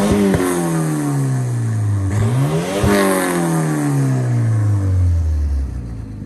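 A Volvo 740 red block engine with a 3-inch downpipe revs up and winds down repeatedly, loud and close, with a rough, rumbling, tractor-like exhaust note and no voices.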